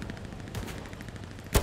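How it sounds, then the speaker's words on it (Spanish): Distant gunfire in the video game Hell Let Loose, with faint pops and rattles under a low background and one sharper, louder shot near the end. "Que me está disparando desde atrás."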